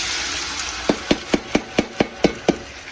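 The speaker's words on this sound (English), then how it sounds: "Listen to the sizzle." Chopped onions dropped into hot separating grease in a pot for gumbo, giving a steady broad frying hiss with a series of eight sharp, evenly spaced knocks like a utensil striking the pot rim over it.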